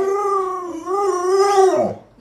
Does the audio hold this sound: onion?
no